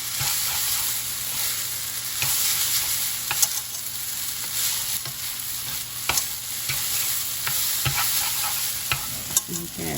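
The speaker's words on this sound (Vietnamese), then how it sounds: "Mình xào đến khi nào mà mình thấy tất cả các cọng mì nó bóng đều, cái dầu ăn nó bám vào đều hết á" Beef noodles are stir-fried in oil in a hot pan, with a continuous loud sizzle broken by frequent scraping and tossing clacks of a utensil, no speech.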